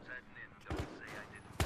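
Battlefield: Hardline video game combat: muffled gunfire and blasts go off in a couple of heavy bursts, with a sharp crack at the very end, under ongoing game noise and voices.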